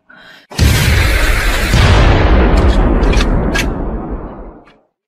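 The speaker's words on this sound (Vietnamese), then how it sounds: "tiếng pháo chi viện của quân đoàn sư đoàn đã phát hỏa" A supporting artillery barrage opens fire at dawn on a battlefield, one massive sustained rumbling boom that swells, holds and fades over several seconds, with a few sharper cracks near the end.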